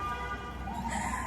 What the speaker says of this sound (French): Je crois que c'est l'ambulance.